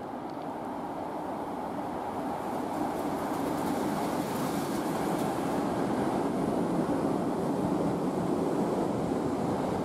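A Seibu F Liner rapid express train rushes through a station, a steady, even roar of wheels and rushing air that holds at a moderate level for about ten seconds with no break.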